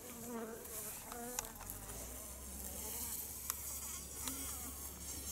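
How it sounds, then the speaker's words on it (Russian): A bee buzzes close by outdoors, its wingbeat drone rising and falling as it circles, with a few soft ticks and taps; no one speaks. "Меня только что укусила пчела."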